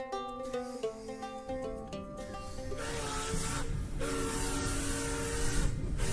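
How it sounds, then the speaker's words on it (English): A Roblox Theme Park Tycoon 2 train runs along its railroad track, a steady rumbling roll that swells and grows louder over a background of tonal game music. "the train track sounds you put are amazing"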